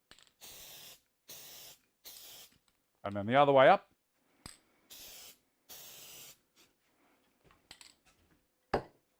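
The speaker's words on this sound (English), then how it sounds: "Don't breathe in the fumes, but just a little quick spray." Quick short bursts of aerosol spray from a can, about six hisses in a row with gaps between, interrupted by a brief voiced sound and a few clicks, with someone speaking briefly.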